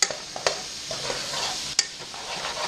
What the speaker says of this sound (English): you let it sit for a little bit like that so that meat can brown